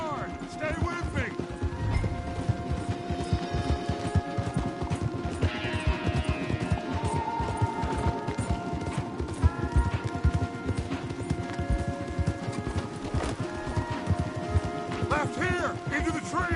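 Horses galloping hard in a video game, a rapid, steady drumming of hooves close by, with game music and occasional snorts layered over it and a voice talking at times.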